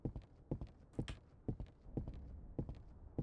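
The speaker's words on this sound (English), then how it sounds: "can you guys hear like white noise and like footsteps and things like that?" Footsteps in the video game Disco Elysium come as faint, evenly spaced thuds, almost hoof-like, walking steadily over a quiet background with no talk.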